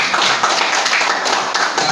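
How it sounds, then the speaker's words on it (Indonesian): Applause at a press conference and talk show for a Dakar 2026 rally winner, a dense, steady patter of many hands clapping together at close range, with no voices. "Tepuk tangan."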